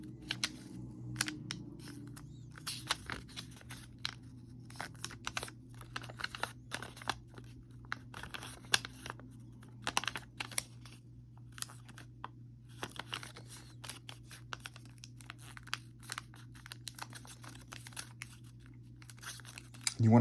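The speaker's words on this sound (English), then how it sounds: "You fold it by hand, which is what's done here." Paper being folded by hand for a 48-sheet origami cube sculpture: soft crinkles, creases and scattered faint crackles over a low steady hum, close and quiet, with no talking.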